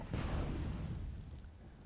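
Artillery fire from Warlocks and mortars in the Myth strategy game: a deep boom at the start, then a low, dense rumble that slowly fades over about two seconds.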